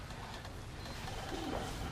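Pigeons give soft, low cooing calls, faint and mixed into a steady background hiss.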